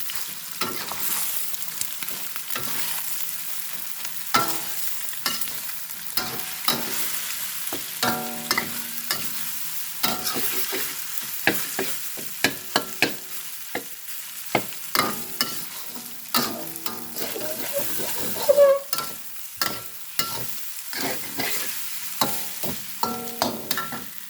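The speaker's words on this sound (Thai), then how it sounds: "เอาคุณแม่ก็จะใส่ข้าวลงไปเลยค่ะ ผัดธรรมดาของคุณแม่จริงๆนะคะ" Rice stir-fried with pork in a pan at home: a soft, steady sizzle broken by repeated clattering scrapes and tosses of the spatula, close up, with no voices.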